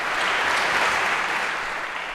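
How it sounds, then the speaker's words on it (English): Students in a university computer science lecture hall give a round of applause to a classmate, a thick wash of clapping that holds steady and eases slightly toward the end. "a round of applause for Louis for getting this right this time"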